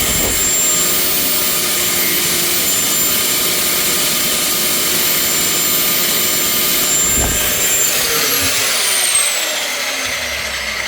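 An angle grinder runs continuously on plastic cosplay finger armour for gloves, a loud steady high whine with sustained hiss, easing slightly toward the end.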